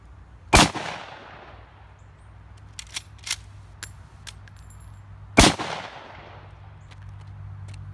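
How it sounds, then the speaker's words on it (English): Two sharp, loud 30-30 lever-action rifle shots, the first near the start and the second about five seconds later, each with a long fading echo and light clinks of the lever action in between. "Now on each shot of the lever action with the 30-30 is independent."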